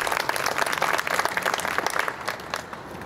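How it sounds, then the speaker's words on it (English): An audience applauds at a restorative justice community court ribbon-cutting ceremony in Avondale, a dense burst of clapping that fades out toward the end. "Please give her a round of applause as well."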